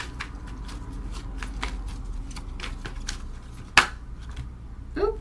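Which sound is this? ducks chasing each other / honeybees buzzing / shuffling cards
shuffling cards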